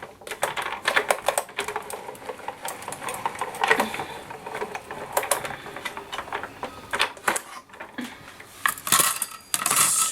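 Scissors cut through gold and silver foil paper in quick, dense snips and crinkles, a steady close-up run of crisp cutting and rustling with no pauses.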